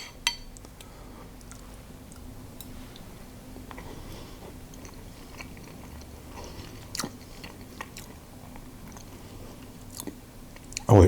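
Quiet, close chewing of a bite of light, still-warm orange and almond cake, soft moist munching with occasional small clicks and a faint clink near the end.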